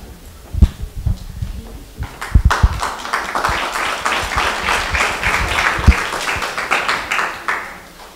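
Audience applause at a one-man stage show, beginning with a few scattered loud claps and thumps, then swelling into sustained clapping from a room of people before tapering off.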